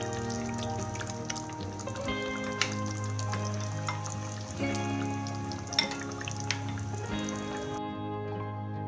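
Chicken pieces browning in a pot for Pakistani chicken shorba give a steady, close sizzle and crackle, with scattered louder pops over a continuous frying hiss and no talk.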